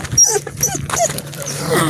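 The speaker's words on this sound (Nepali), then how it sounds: "यहाँ कुकुर आएर छ नि त हेर हो त कुकुर आएर यसलाई रिस उठ्यो" A dog whimpering and yipping angrily at another dog that has come into its area, a string of close, high, uneven whines and short yelps with a faint growl beneath.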